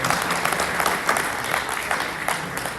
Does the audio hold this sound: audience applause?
yes